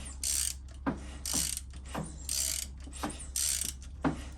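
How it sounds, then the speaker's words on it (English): Inside the cam chest of a Harley-Davidson TwinCam 96, the lifters work as the engine is turned over in gear, giving repeated mechanical clicks and ratcheting bursts in a steady rhythm, close and fairly faint, with no talking. "See my lifter's working."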